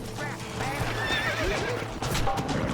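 A horse in Red Dead Redemption lets out a loud, quavering whinny over clip-clopping hooves, with game background sound underneath.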